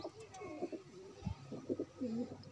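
Soft cooing of a desi pigeon, a native Indian breed, in a few low, rounded calls close by, partly mixed with someone talking.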